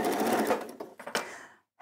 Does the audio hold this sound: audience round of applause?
no